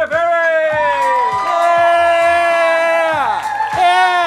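A live audience cheers and whoops loudly as the host of a downtown podcast show is introduced, with sustained rising and falling shouts of 'woo' and 'yeah' filling the room without pause.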